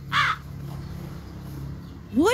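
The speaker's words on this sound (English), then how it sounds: "Hooded crow. Burung gagak." A hooded crow caws twice, one harsh call at the start and another at the end, loud and close, with faint background noise between them.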